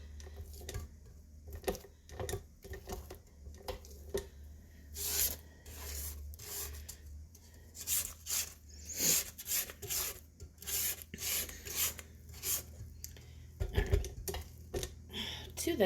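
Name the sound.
scraping down mixer beater and bowl sides, cookie dough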